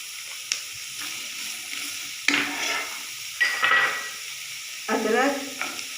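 Garlic sizzles in hot oil for a mixed vegetable yakhni, sounding in short hissing bursts that swell and fade, with quiet gaps between them.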